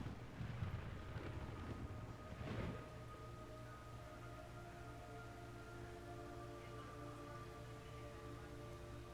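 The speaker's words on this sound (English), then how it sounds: "It's raining blood." Rain falling in the video game Metal Gear Solid 3: Snake Eater, a faint, steady hiss of rain on surfaces with a brief louder patter early on, then a continuous low wash with a faint tonal hum underneath.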